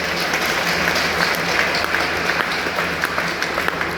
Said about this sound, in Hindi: मैं चाहूंगी एक बार हमारे सर के लिए जबरदस्त ताली देनी चाहिए